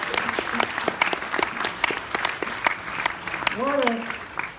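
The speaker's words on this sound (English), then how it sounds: "Let's have a round of applause for this" Audience at a Planet of the Apes 50th anniversary panel claps in distinct, sparse sharp claps, while voices and a brief whoop rise near the end.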